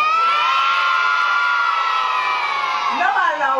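A crowd of children at a 1993 town festival in Oberkochen shouts together loudly and continuously, a dense sustained roar of young voices that swells and breaks off at the end.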